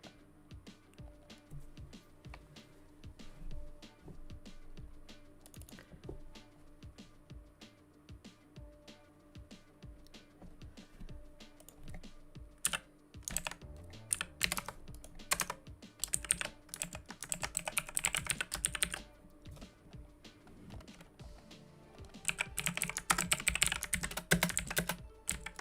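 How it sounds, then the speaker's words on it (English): Rapid clattering keystrokes on a computer keyboard, sparse and quiet at first, then building into dense, louder bursts of fast typing, close up with no talking. "there goes my keyboard again."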